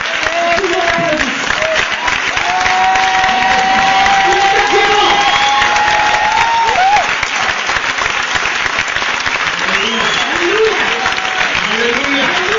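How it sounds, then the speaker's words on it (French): A church congregation claps and cheers loudly and continuously, dense applause close by with whoops and sustained vocal cries layered over it throughout. "Everybody clap."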